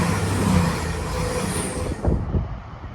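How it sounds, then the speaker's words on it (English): An East Midlands Railway Class 222 diesel unit on a Sheffield to London St Pancras service roars past East Midlands Parkway station, a loud close rush of engine and wheel noise that eases toward the end. "here comes a passing East Midlands Railway service from Sheffield to London St Pancras"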